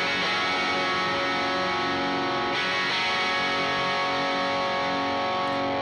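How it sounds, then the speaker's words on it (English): An electric guitar played through a Friedman amp rings out with a sustained, heavily distorted chord tone, steady and loud throughout with a slight change in texture partway. "This is the waveform of a Friedman amp that sounds like this."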